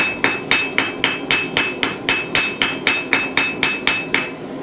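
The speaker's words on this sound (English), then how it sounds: "use the back of the hammer, spread it out a bit," Hammer blows ring out on hot metal, the back of the hammer texturing a blacksmith's leaf pendant, in a fast, steady rhythm, about fifteen evenly spaced strikes, close and loud with no talking.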